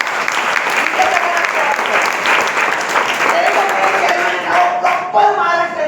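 Audience applause at an indoor business presentation, loud dense clapping that runs steadily for several seconds and starts to thin toward the end.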